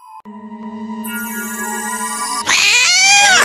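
A cat meows in an animated cartoon, the call rising and wavering loudly near the end after a sustained electronic tone with no talk over it.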